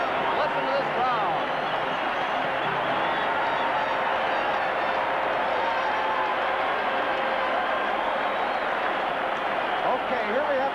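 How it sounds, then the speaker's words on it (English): A packed hockey arena crowd roars throughout the 1976 Canada Cup final between Canada and Czechoslovakia, a steady, dense cheering wash that stays loud from start to finish under faint commentary. "Listen to this crowd."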